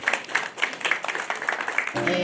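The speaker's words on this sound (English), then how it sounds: "Maybe we can just clap and congratulate them." Scattered audience clapping at an art exhibition opening, a fairly close patter of individual claps in uneven rhythm lasting about two seconds, ending as a voice begins speaking.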